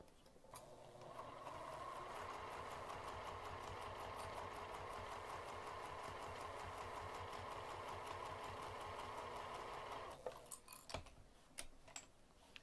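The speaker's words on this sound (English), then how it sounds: "I'm going to sew around the outer edge an eighth of an inch away from the edge of the fabric" A sewing machine stitches steadily around the edge of a piece of fabric, its needle ticking in a fast, even rhythm for about ten seconds before stopping, followed by a few soft handling clicks.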